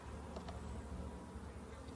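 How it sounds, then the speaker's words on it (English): Honey bees buzzing around a full beehive, a soft steady drone at low level with no voices over it. "That bee's trying to sting me. They're kind of defensive"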